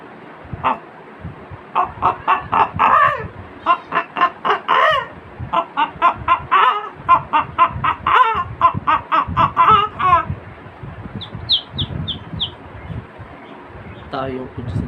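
A man imitates a hen and her chicks with his mouth, giving rapid runs of clucks, crowing-like calls and high chick peeps in lively bursts, with some speech mixed in.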